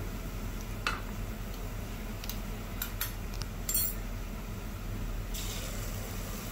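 A spoon stirs whole white cumin in a pan on low flame, giving a few faint metallic clinks and scrapes over a steady low hum and soft sizzle.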